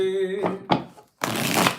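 Tarot cards shuffled in quick riffling bursts, a short flutter then a longer burst after a brief pause, close and clear, following a voice that trails off at the start.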